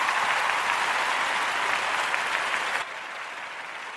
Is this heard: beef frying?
no